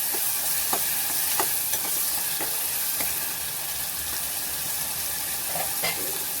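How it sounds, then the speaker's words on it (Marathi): Ground masala paste sautéed in hot oil, a constant close sizzle with scattered sharp scrapes from stirring spaced through the sound, and no one speaking. "आपल्याला तेलात आपलं वाटप परतून घ्यायचं आहे"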